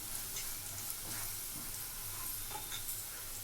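Turmeric and salt being stirred in a hot frying pan for a chikkudu (broad bean) curry, a steady close sizzle with soft scraping stirs throughout, no talking.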